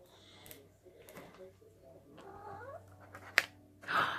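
A cat meows and caterwauls several times as it enters a room, with drawn-out, wavering cries building to a louder yowl at the end, near and clear over quiet indoor background noise.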